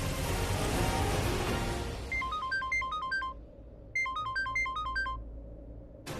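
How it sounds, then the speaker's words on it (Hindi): A mobile phone ringtone plays two short melodic bursts of bright electronic tones after a stretch of background noise, fairly close and clear. "बट आयुष को इस वक्त फोन कौन कर सकता है?"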